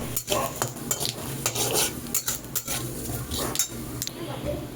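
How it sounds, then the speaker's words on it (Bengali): Bay leaf, black cumin, white cumin and dried red chillies tempering in hot oil, stirred briskly with a metal spatula: repeated scraping and clinking against the pan over a light sizzle, close and busy. "তেজপাতা কালো জিরে সাদা জিরে আর শুকনো লঙ্কা একসাথে ফোড়নে দিয়ে বেশ ভালোভাবে একটু নেড়ে নিই"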